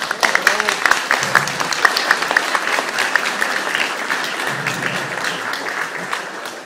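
Sustained applause from a crowd, steady dense clapping filling the whole stretch without letting up.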